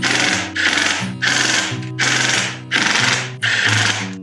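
A power tool on its lowest torque setting runs down engine bolts on a 2000 Honda Passport during a rebuild, six loud rattling bursts of about half a second each with short gaps between them.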